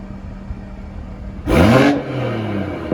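Idling BMW M140i, a 2019 Stage 2 car with a Scorpion exhaust in comfort mode, gives a low steady burble, then a brief loud rev blip that rises and falls away to a smooth idle hum.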